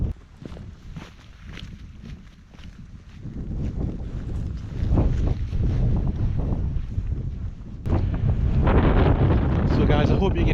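Strong wind buffets a microphone outdoors on a moor at Ros Castle during a night wild camp, a continuous low roaring rumble that swells and gusts, with footsteps and shuffling movement underneath.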